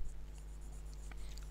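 Faint, scratchy strokes of writing on a board during an accounting lecture, heard close over a low, steady hum with no talking.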